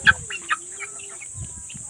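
A sick chicken with a cold and wheezing breath gives a few short, soft clucks near the start, then goes quiet under faint background hiss and a low hum.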